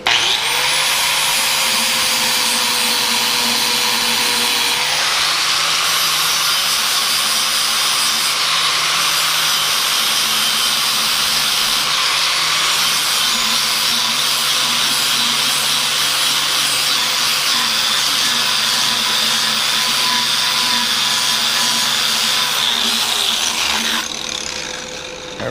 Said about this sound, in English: With it being real close to the edge, I'm trying not to grind on this corner at all.